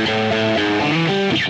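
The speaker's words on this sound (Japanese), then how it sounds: "このプリアンプを音の歪み具合ですね、上げていくと音が歪んでハードになります" Electric guitar run through the Guitar Rig 5 preamp with its drive turned up, a short, loud, distorted phrase of several sustained notes changing pitch, heard alone.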